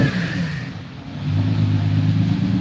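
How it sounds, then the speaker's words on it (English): A car engine hums at moderate volume, dipping briefly then building steadily as the vehicle accelerates along, with no voices. "My car is driving."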